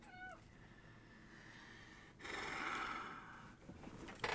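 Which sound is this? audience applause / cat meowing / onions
cat meowing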